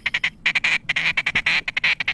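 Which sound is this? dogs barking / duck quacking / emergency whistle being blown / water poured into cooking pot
duck quacking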